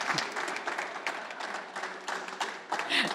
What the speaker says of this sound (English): Please help me with a round of applause while we take a picture.